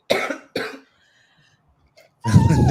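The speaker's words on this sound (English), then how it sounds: "That cough's got you good." Two harsh coughs in quick succession, then a brief pause before a third, louder hacking cough; close and loud with no talking.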